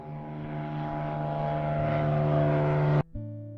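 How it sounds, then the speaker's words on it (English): A steady propeller airplane drone, close and loud, with a low engine hum that builds slightly before cutting off abruptly. "An airplane."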